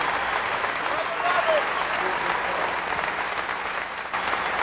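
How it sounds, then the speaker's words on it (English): A large audience at a gospel quartet convention concert applauds in a sustained, even roar of clapping, steady and fairly loud throughout with no break. "Will you continue your applause now"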